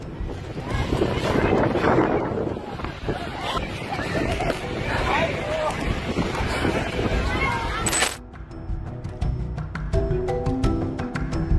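Strong wind gusts buffeting the microphone with heavy, roaring rumble and blustery noise, voices and babble mixed in, then the roar drops away abruptly near the end, leaving quieter scattered clinks and knocks.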